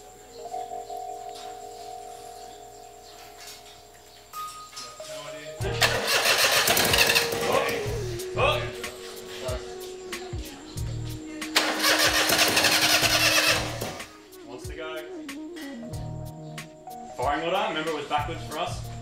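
A race car engine cranks repeatedly but fails to catch, with bursts of loud starter churning separated by pauses, and people talking nearby throughout.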